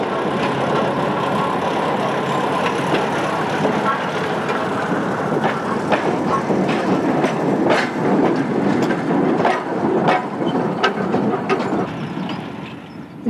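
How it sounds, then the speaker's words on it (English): Donegal narrow gauge railcar running on 3-foot gauge track, its coupling rods clanking, heard as a steady close rumble with repeated metallic clicks and clanks throughout. "When the rail car is operating, these rods give out a distinctive clanking sound."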